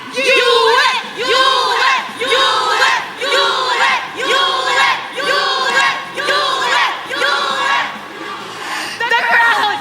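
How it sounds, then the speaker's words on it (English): Esports crowd at the MSC 2023 grand final between Blacklist and Onic, a big arena audience chanting in loud rhythmic surges, about eight repeated bursts with short dips between them. "The crowd is going wild"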